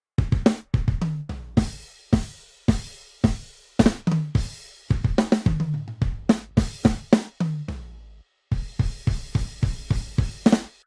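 MIDI drum kit in an Addictive Drums style groove, mixed with effects so the kick, snare and cymbal hits sound fuller and louder, in a steady rhythm with a short pause late in the pattern, and no talking.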